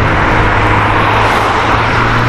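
An orange McLaren sports car passes by, its steady engine and road roar filling the whole stretch at a fairly loud, constant level without a sharp swell.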